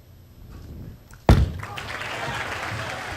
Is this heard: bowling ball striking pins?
yes